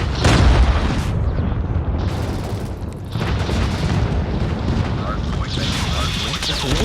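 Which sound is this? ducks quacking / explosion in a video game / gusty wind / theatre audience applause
explosion in a video game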